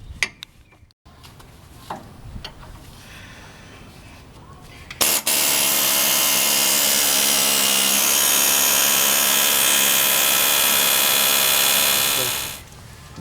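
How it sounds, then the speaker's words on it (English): An air chisel with a fork spreader hammers at the ball joint of a 2005 Dodge Ram 1500 pickup, with a few short taps and clanks first, then a loud, continuous rapid pneumatic rattle lasting about seven seconds before stopping. "we are going to hit that again with the fork spreader and the air chisel"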